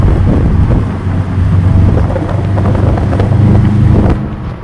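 Subaru WRX STI boxer engine revving while driving, a steady loud low rumble heard from inside the car with wind noise, rising and easing over a few seconds.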